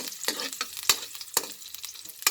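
Onions sautéing in a hot pan for sotanghon soup, with a continuous sizzle broken by sharp scraping clicks of a utensil stirring against the pan, close by and without talk.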